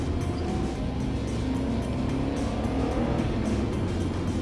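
A Subaru WRX V Limited with all-wheel drive and 276 horsepower cornering, its engine a steady low drone heard from inside with faint rhythmic road thumps.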